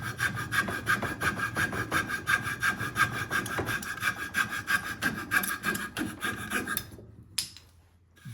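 A hand saw cuts steadily through wood for a carved duck decoy head, its rhythmic back-and-forth strokes loud and close before stopping near the end.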